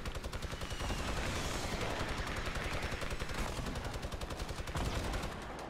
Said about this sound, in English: that was me shooting at the other guy because the other guy screwed me over